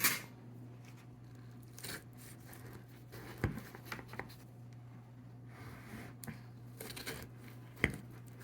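A knife slices into a freshly baked short crust apple pie, giving faint, quiet scraping and crackling of crisp pastry with scattered soft taps and crunches spread across the moment.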